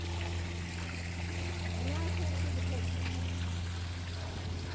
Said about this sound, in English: with all the water coming in